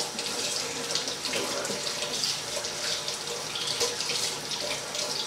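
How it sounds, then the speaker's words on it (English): A kitchen sink tap runs steadily while hands are washed beneath it, a close, continuous hiss and splash of water with no talking. "I'm gonna wash my hands real quick"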